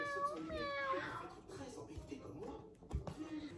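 A young child imitates a cat with a high, drawn-out meow, followed by quieter voices and small household noises nearby.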